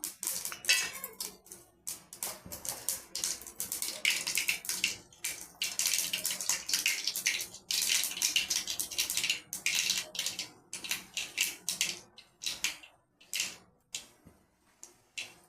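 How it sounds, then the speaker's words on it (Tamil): Mustard seeds crackling and spluttering in hot oil while tempering a coconut tomato chutney, a dense run of sharp close pops and sizzles with no talk. "கடுகு போட்டிருக்கோம் கடுகு பொரியட்டும்"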